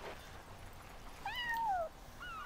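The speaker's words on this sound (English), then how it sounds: "That was a cat." A cat meows once in the video game Yonder: The Cloud Catcher Chronicles, a rising then falling call, clear and moderately close over quiet ambient background, followed by a shorter faint second meow.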